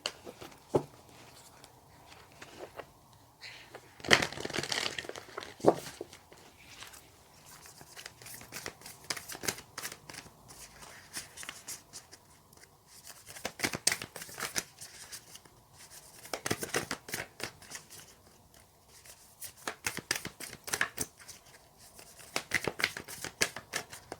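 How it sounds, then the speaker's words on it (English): A thick, heavy Oracle of the Unicorns card deck being shuffled by hand, with repeated bursts of riffling and flicking cards that come in uneven clusters, close and fairly quiet, with short pauses between them. "That was on the bottom of the deck actually before I started shuffling."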